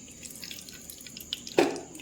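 Melted ghee pours into a cooking pan in a quiet kitchen, one soft liquid splash landing near the end after faint background hiss.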